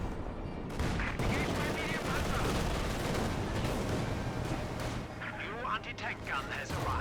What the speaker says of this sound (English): Su-76 getting some point-blank shots